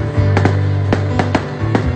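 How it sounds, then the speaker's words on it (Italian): Fireworks go off near a beach in Riccione, giving several sharp cracks and pops at irregular intervals over a steady low rumble and hum. "sono i fuochi d'artificio"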